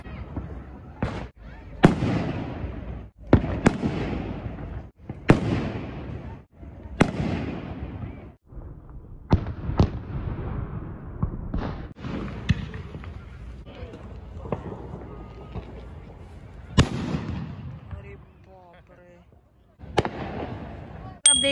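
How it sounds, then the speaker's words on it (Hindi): Fireworks and large firecrackers bursting at a street Independence Day celebration in America, a series of sharp loud bangs and crackles at irregular intervals, some close and some farther off, with crowd voices and chatter underneath. "इन लोगों का जो सेलिब्रेशन होता है वो ऐसे ही फायरवर्क्स एक जगह कलेक्ट हो जाते हैं ये लोग और फायरवर्क्स होता है"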